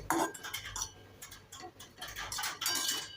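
Grated coconut stirred in ghee in a pan over a very low flame for coconut barfi, with faint irregular ticks and clinks of a utensil against the pan, quiet and close with no talk.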